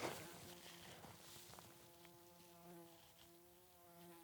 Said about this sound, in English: That is a massive bee.